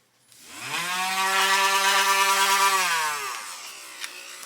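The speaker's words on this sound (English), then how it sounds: "And we're going to drill" Power drill boring holes into a leather knife sheath: a motor whine spins up, holds steady for about three seconds, then winds down, close and fairly loud with no talk.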